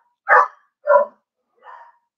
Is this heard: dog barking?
yes